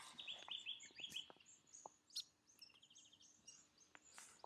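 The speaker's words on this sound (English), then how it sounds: "It's a little grey fantail." A little grey fantail calls outdoors, giving a quick series of high, thin chirps and tweets close by. Faint insect buzz and sparse bird calls carry in the quiet background.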